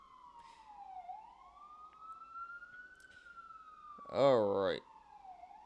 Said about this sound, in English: here comes the siren. First siren of the day.